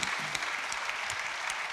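Audience applause after a talk about the ocean, a dense, steady patter of many hands clapping, fairly loud and continuous throughout without talk.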